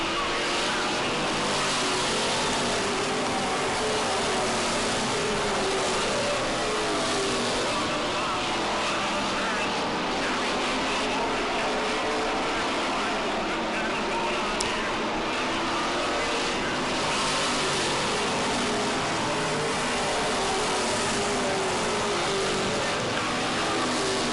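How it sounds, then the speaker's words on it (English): Race cars circling an asphalt short track during a late-race battle, a dense, steady engine roar filling the whole stretch with fluctuating pitch as cars pass, under crowd and track ambience. "this is short track racing at its best here on asphalt anyway"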